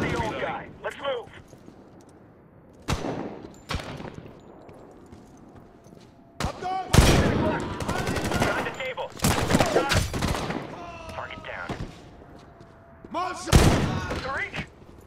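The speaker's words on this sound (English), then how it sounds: "Don't shoot Tariq!" Bursts of game gunfire in Medal of Honor, sharp volleys and rattling fusillades that come and go in clusters across the stretch, with voices calling out between and over the shooting.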